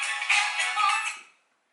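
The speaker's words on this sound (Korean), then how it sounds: "저도 전화가 왔네요. 이거 잠깐 끄도록 하겠습니다." A mobile phone ringtone from an incoming spam call plays a bright, steady electronic melody up close for about a second before it is cut off abruptly, leaving silence.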